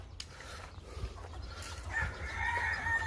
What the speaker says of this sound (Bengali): দেখুন এগুলি হলো মোরগ